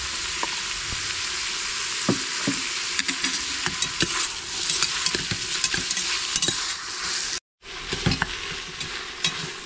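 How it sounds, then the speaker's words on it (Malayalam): Onions sautéing in oil for a Kerala-style mutton biryani, a steady bright sizzle with scattered stirring scrapes, close and continuous, with a brief dropout near the end before the frying resumes. "സവാള ഒന്ന് വഴണ്ട് തുടങ്ങിയിട്ടുണ്ട്, ഒരു പകുതി പരുവായിട്ടുണ്ട്."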